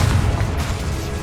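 A Confringo blasting curse explodes in the wizarding game Hogwarts Legacy, giving a loud, close, rumbling boom that holds as a heavy low roar for about a second, with no voices over it.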